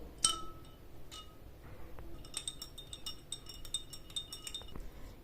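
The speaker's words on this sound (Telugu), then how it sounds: "ఆ తర్వాత ఐస్ ముక్కలు వేసుకొని సర్వ్ చేసుకోవాలండి" Ice cubes clink into a glass of Rooh Afza rose lemon sharbat, giving several quiet, sharp glassy chinks, one at the start and then a rapid cluster toward the end, with no talking.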